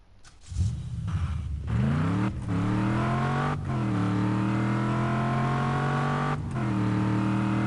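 Car engine in the video game Just Cause 3, starting up and revving through several rising gear shifts, then holding a loud, steady drone close up with no talking over it.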